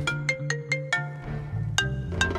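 A mobile phone ringtone for an incoming call sounds in a home scene of a Bangla TV drama: a bright, repeating electronic melody of short tonal notes, fairly close and clear, with no talking over it.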